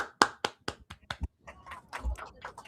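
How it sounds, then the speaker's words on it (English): A handful of sharp, separate claps from an audience ring out at a steady pace, close and fairly loud, then give way to quieter scattered noise and a low thump. "could you just please clap it up for me?"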